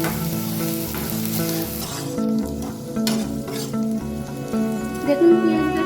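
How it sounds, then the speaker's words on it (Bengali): Sliced onions fry in hot oil for a Bengali egg curry, a steady close sizzle that stays busy throughout with occasional stirring scrapes. "এটাকে হালকা ব্রাউন কালার করে ভেজে নেব।"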